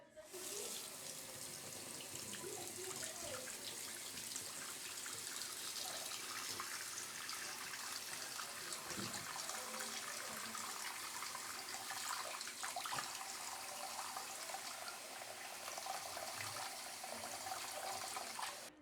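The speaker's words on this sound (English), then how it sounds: "now we're going to try pouring water over this lint screen and see if it goes right through" Water is poured over a dryer lint screen in a bathroom, making a continuous splashing, running-water rush that stays steady and close for the whole stretch.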